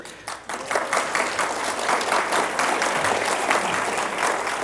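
A theatre audience at a MoMA talk in the Equity series breaks into sustained applause, dense clapping spread evenly across the room and holding steady throughout.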